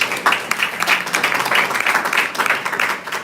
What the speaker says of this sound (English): Can you clap for us?